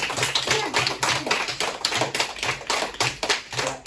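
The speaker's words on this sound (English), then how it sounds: "give yourselves a big round of applause" Year 4 children clapping together after a school guitar concert, a dense, uneven patter of many small hands sustained throughout, fairly close and steady with no talking.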